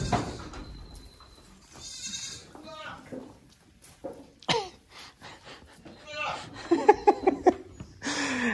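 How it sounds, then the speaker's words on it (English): Baby goats on a farm bleat in a quick series of calls toward the end, with a person talking and clearing their throat earlier in the clip. "I know a lot of you guys are here for the baby goats"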